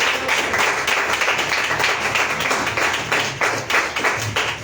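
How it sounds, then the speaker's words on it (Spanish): A church congregation claps together in a dense, continuous burst of applause, loud and sustained throughout. "Dale un fuerte aplauso al Señor."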